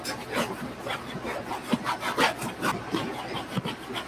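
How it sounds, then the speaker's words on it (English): A dry medium-bristle brush scrubs Classic Short Weather Hybrid Ugg boots with steady, rhythmic strokes in one direction, a close, dry, raspy rubbing repeating about twice per second with no voices. "So we have a dry medium bristle brush, and we're just gonna start brushing everything out in one direction."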